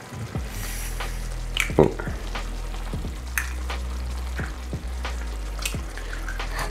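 Eggs added to a sizzling sausage shakshuka sauce in a pot, a steady fry with crackles and pops, a few taps and clinks, and a brief voiced exclamation partway through.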